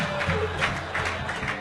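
A comedy show audience claps and applauds, a dense wash of hands from a moderately distant crowd, steady throughout.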